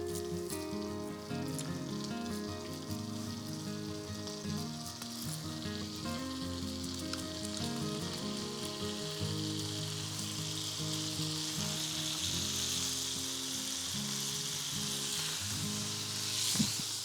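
Salmon patties frying in foaming butter, a steady close sizzle with crackling pops that runs evenly throughout, with no talk over it.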